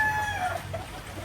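Chickens clucking and crowing close by in a brief burst over a low background hum.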